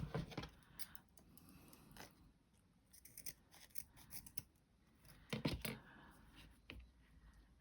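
Scissors snip off a piece of fabric trim in a series of quiet, sharp, close cuts at an irregular pace, with soft rustling between them.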